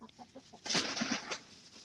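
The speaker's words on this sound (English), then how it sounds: "She's a really pretty bird." A pet hen gives soft clucks, then a louder, harsh squawking burst, close by and alone with no talk over it.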